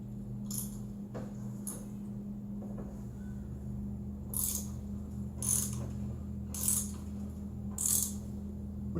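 A hand thread tap cuts into metal to prepare a hole for a Helicoil insert, giving off a few bright, short scraping clicks over a steady low mechanical hum.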